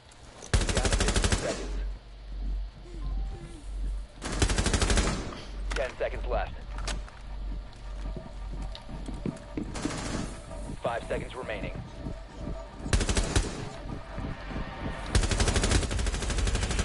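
Gunshots in a tense hostage scenario: loud, close bursts of rapid gunfire in several separate volleys, with quieter shots and talk heard between the bursts.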